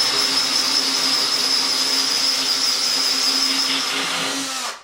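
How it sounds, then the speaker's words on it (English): A Porcadrill 365 diamond tip drill bit, 16mm, grinds slowly into wall tile with a steady, loud, high-pitched whine and gritty hiss that holds for several seconds before cutting off abruptly. "I'm going to place the 16mm bit in the appropriate hole and drill slowly."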